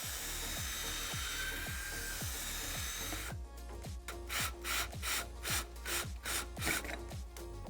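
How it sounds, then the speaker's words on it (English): A steady grinding drone gives way to rhythmic, pulsing bursts of a drill biting into a metal rivet on a Can-Am Maverick X3 door strap, repeated evenly, close and fairly loud. "to remove the strap, we're going to drill out the rivet going through it."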